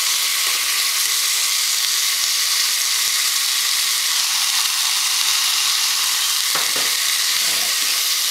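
Sliced onions sizzle loudly in a pan after a splash of vinegar for a Dominican breakfast, a steady close hiss with a few stirring knocks, no talking.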